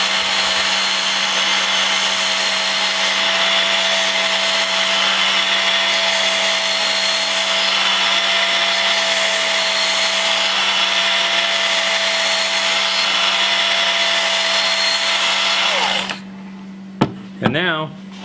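A bench grinder held at full speed sharpens a blade pressed gently against the wheel, giving a loud, steady whine with a constant hum for about fifteen seconds before spinning down, followed by a few clicks.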